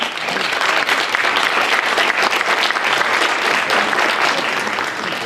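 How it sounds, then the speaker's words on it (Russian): A lecture audience gives a speaker a sustained burst of applause, dense, loud and continuous clapping from a crowd that fills the room for several seconds. "Давайте ему похлопаем."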